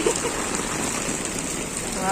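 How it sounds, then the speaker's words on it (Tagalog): Heavy rain falls steadily as a dense, even hiss of water on surfaces throughout, with faint voices under it on a wet market street in the Philippines. "So, malakas talaga yung ulan."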